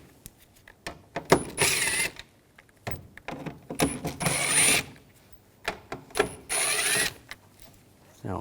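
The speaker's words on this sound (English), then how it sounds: "We're going to take these screws out up top, use a T25 socket," A powered driver with a T25 socket backs screws out of the top of a 2011-2018 Volkswagen Jetta front bumper, whirring in three short close bursts separated by quieter handling noise.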